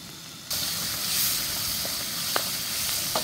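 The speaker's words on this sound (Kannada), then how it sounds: "ಇದು ಫ್ರೈ ಆಗ್ತಾ ಇದೆ" Tomatoes and onions fry in a pan with a steady, moderately loud sizzling hiss that starts suddenly and carries on, broken by a few small sharp pops.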